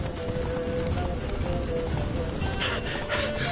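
Hoofbeats of Roach, Geralt's horse, in The Witcher 3: Wild Hunt, a steady galloping clatter over constant outdoor game ambience, with a faint whinny-like tone and no voices.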